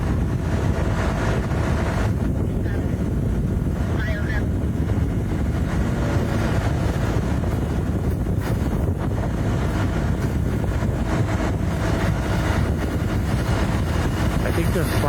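Strong wind buffets the microphone at a structure fire at an auto body shop, a constant heavy low roar of gusts through the whole stretch, with a voice talking under it.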